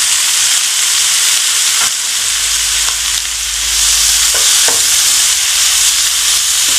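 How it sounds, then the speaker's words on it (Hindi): Tomatoes sautéing in a pan while making chicken Manchurian with fried rice, giving a steady close frying sizzle with faint stirring clicks throughout, no talk. "टमाटर को भी तो लाइट सा सौते कर लेंगे"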